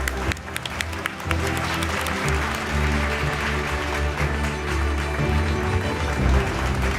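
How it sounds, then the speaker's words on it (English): Audience applause at an awards ceremony as a winning company is called to the stage, a dense steady clapping that swells and carries on for several seconds, fairly loud and close. "A big round of applause."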